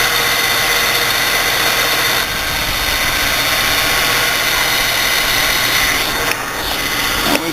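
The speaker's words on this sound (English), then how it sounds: "all you hear now is the pull on the alternator for charging the battery" 1998 Ford Mustang engine idling steadily with the alternator under charging load, a constant close hum and whine with a brief shift partway through.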